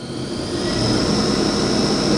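Spindle of a 2004 Haas VF2B four-axis vertical machining center spinning up past 3,000 RPM, a loud steady high whine with a strong tonal hum and broadband rush, rising in pitch, with no talk.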